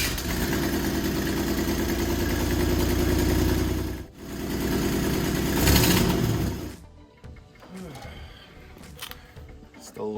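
A Buick Grand National with new exhaust headers and downpipe starts up and idles loudly with a steady rumble, then cuts off abruptly, leaving quiet clicks and handling noises.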